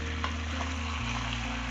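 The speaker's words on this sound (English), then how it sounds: "my favorite part, frying. Make sure it's fried properly with all these spices." Chicken sizzles steadily in a hot pan with spices, fried onion and chopped garlic, a continuous close frying hiss with faint stirring, no voices.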